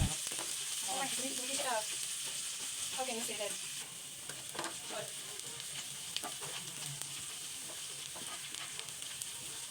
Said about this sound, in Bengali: পেঁয়াজটা কিন্তু আমি এখানে একটু হালকা বাদামি করে ভেজে নিব